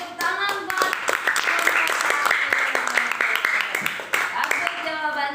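A class of students applauding in a classroom lesson: brisk, dense clapping by many hands, fairly close and steady for about five seconds, with a few children's voices audible over it.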